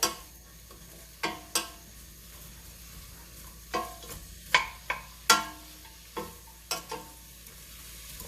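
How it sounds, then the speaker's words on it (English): Onion in hot oil gives a faint, low sizzle in the background, broken by sharp stirring clacks and utensil knocks at irregular intervals, with no voices. "we have got a slight sizzle saying the oil is hot enough"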